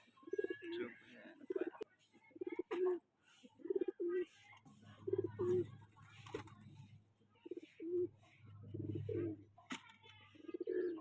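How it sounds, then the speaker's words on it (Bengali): A fulshira pigeon coos close by in repeated soft, low, throaty phrases with an even rhythm, interleaved with someone speaking nearby. "এটা ফুলশিরা পায়রা আছে দাদা।"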